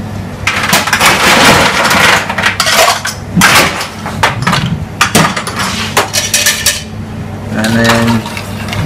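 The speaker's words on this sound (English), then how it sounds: "And then just nicely stirred down." Ice and bar spoon clinking steadily in a mixing glass as a cocktail of vanilla syrup and orange bitters is stirred down at a London bar, a loud, continuous rattle of tinkling hits with brief pauses.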